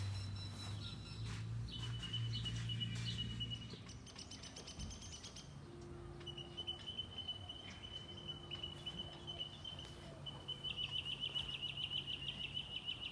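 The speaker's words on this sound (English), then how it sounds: "I'm listening to the birds in the background." Birds chirp and tweet outdoors in natural surroundings, with repeated high calls over a steady layer of insect or cricket buzz, moderately distant and continuous.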